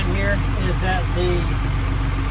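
A piece of farm equipment idles steadily with no load, a loud continuous mid-pitched engine hum while someone talks over it.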